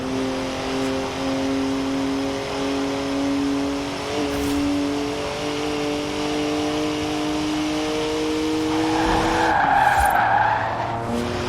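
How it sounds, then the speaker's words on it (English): A BMW 1M driven hard gives a loud, steady engine drone that holds its pitch, with a brief rising rev or tire noise near the end and no talking. "One of the best BMWs ever made, this."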